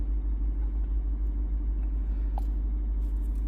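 A 2014 Honda Grace Hybrid idles steadily with a low, even engine rumble, close and constant throughout with no talking.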